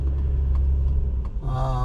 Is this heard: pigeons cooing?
no